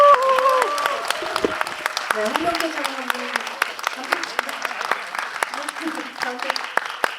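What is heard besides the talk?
audience applause at a film screening event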